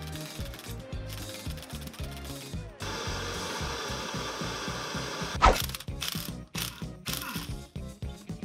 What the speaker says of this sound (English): I'll have to use a 14 millimeter socket and wrench to remove those bolts.